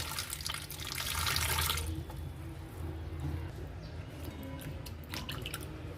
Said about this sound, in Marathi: मिरच्या पण मी असं सगळ्या फक्त धुवून घेणार आहे